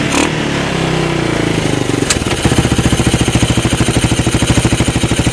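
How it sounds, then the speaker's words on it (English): A Yamaha DX225 ATV engine starts up and settles into a loud, steady, rhythmic running putter, close by, with no talk over it. "The engine sounds good."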